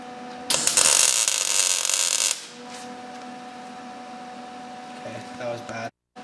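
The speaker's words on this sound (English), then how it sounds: "going to apply a tack weld at one end of the steel" A single short tack weld on steel crackles and buzzes loudly for about two seconds, followed by a quieter stretch with a low hum and faint background sounds.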